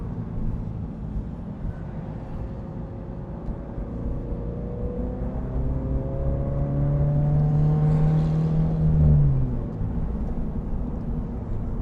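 Subaru BRZ/GR86 exhaust drones on a highway, echoing off nearby trucks; a low steady rumble builds with rising engine tones and a brief louder pass near the end, heard from inside the car without talk.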